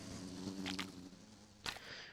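Buzzing bees chase a running player character in a bee-themed video game, a steady insect drone with two louder swells passing close by.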